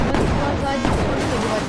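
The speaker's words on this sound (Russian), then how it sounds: "Я еще стреляю по зданиям. Блин, мощная здесь пушка." A powerful cannon in Brick Rigs pounds buildings with dense, loud, close blasts and rumbling collapse that fills the short stretch with no break.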